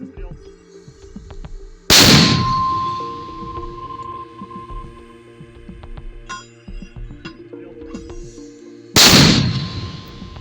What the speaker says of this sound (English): Footage of a mortar detachment of the Igorlik detachment of the Don Cossack Brigade firing DSHK